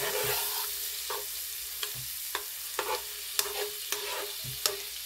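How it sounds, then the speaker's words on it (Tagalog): Chopped garlic sizzles steadily in hot margarine, a soft continuous frying hiss broken by repeated sharp scrapes and taps of a spoon stirring the pan, close and fairly quiet with no talking. "Ilagay na po natin yung chopped garlic."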